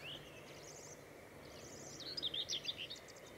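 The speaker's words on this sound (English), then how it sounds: "What's that bird over there?" Songbird calling at a water park, faint high chirps at first, then a louder run of rapid warbling notes, distant and alone over quiet outdoor background.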